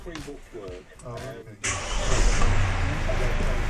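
A 2019 Mercedes Sprinter van engine with keyless push-button ignition cranks and catches after someone speaks, then settles into a steady loud idle close by.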